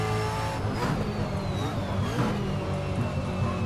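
A V8 Supercar in the Assetto Corsa racing game drives at Winton, its engine a steady loud drone with a rising whine and a few shifts in pitch. No one speaks over it.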